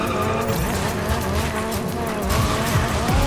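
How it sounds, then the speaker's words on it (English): Tires squeal steadily through a long drift in the Rocket Racing video game, a loud continuous screech riding over the car's engine for the whole stretch without any voice. "All about how long you hold that drift."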